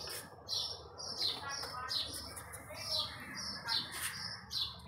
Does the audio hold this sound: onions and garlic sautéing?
no